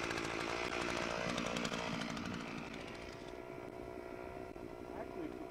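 A power auger drills into grassy sod, its small engine droning loud and close, strongest at first and then settling to a steadier, slightly lower running tone.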